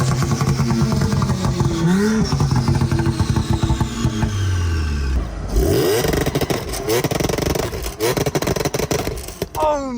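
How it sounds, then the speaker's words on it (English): Loud engine revving from an Audi with a modified exhaust, fitted with about $8k in mods, rising and falling in repeated pulls with rasping exhaust tone and sharp crackles near the end. "And how do you like the exhaust tone itself?"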